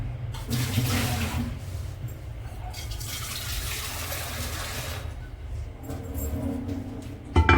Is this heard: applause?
no